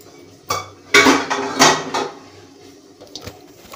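Metal utensils clatter and clink as they are set onto a dish stand, with several loud bursts of rattling up close followed by lighter scattered taps.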